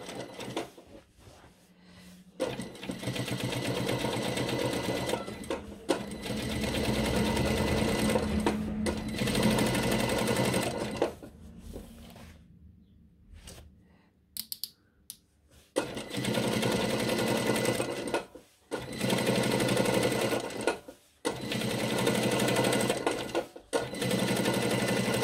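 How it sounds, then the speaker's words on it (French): An industrial sewing machine stitches thick material in long, loud, steady runs of rapid needle chatter, broken by short pauses and a quieter stretch near the middle. "C'est vrai que j'ai l'avantage d'avoir une machine industrielle. Ça me permet de piquer assez facilement des matières épaisses."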